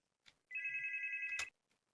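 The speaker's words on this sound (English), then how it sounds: "Oh, hold on, the phone's ringing." A telephone rings once inside a car repair video game, a single bright electronic trill lasting about a second, clear and isolated against near silence.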